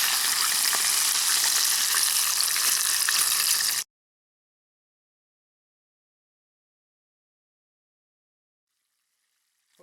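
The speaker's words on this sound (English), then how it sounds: "we're 7 minutes into these other part of the wing. Still at a good fry temperature." A chicken wing fries in oil in a Hungarian mess kit over a camp stove, a dense even sizzle that runs steadily for a few seconds and then cuts off abruptly into silence.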